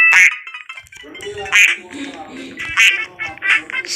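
Cartoonish duck quacks from a video game sound repeatedly in short bursts, fairly close and clear, with a person talking over them throughout.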